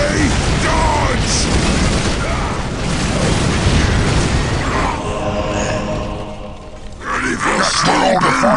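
Bombing explosions in the strategy game Dawn of War: heavy rumbling booms and mechanical clatter rolling on loudly, with gruff voices shouting between the blasts.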